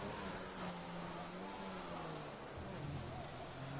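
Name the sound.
race car downshifting in a sim racing video game, Canadian GP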